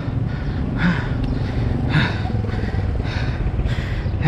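Heavy, rhythmic panting from a cyclist after riding uphill to Camp John Hay, with repeated breath bursts roughly once per second, close to the microphone over steady outdoor wind or traffic noise.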